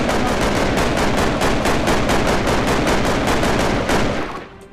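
Rapid automatic gunfire in Minecraft, a dense unbroken stream of shots for about four seconds that then cuts off and fades, loud and close with no talk over it.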